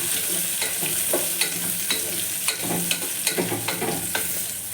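Chopped green chillies fry in a pan for tomato rice, giving a steady close sizzle with regular light scrapes and taps from stirring, no voices.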